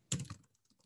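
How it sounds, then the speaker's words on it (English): A few quick keystrokes on a computer keyboard, a short burst of soft clicks followed by faint scattered taps, close and quiet. "Just type placeholder here"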